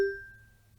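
Single mallet keyboard bar struck firmly down toward the resonator, giving a sharp attack and a clear pitched ring that decays within a second. Heard alone and close.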